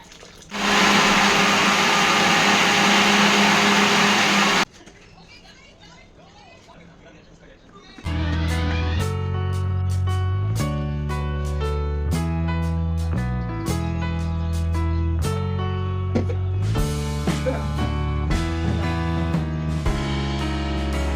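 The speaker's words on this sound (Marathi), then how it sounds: "एकदा मिक्सर मधून फिरून घ्यायचं." A mixer grinder blends raw mango panha in a loud, steady whir that runs for about four seconds and then cuts off abruptly. A quiet pause follows, then music comes in.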